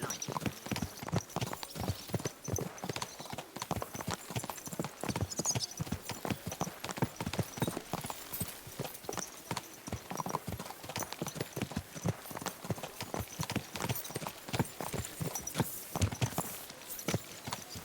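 Horse hooves clip-clop at a steady walking rhythm on a hard surface in the medieval game Kingdom Come: Deliverance II, close and continuous throughout, with an occasional faint whinny in the background.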